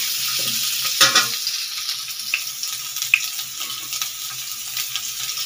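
Potato pieces fry in hot oil with turmeric and salt in a home kitchen pan, giving a steady close sizzle broken by a few sharp scrapes and clinks of stirring.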